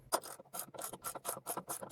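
A wrench works a 15/16 bolt loose on an MTD snowblower during an auger belt swap, producing a quick series of about eight close, evenly spaced ratcheting rasps.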